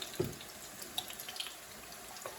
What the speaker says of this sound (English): Currently pouring some oil out.